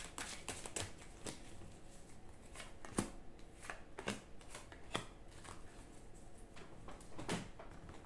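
Oracle cards are shuffled and drawn, giving a run of crisp papery riffles and snaps at an irregular pace, with sharper slaps near three, five and seven seconds. The sound is quiet and close, with no talking.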